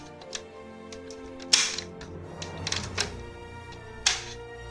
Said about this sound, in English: That button is for the gun sound.